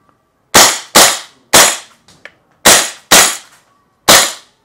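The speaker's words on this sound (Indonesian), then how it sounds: "Sekarang kita akan coba singlein nembak target ya teman." Gas airsoft gun firing single shots at a target outdoors: six sharp, loud cracks spaced about half a second apart, each with a brief decaying tail, plus a faint click between them.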